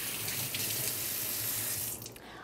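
Fingers rinsed under a running kitchen tap, a steady close rush of water hitting the sink that cuts off just before the end, with no talking.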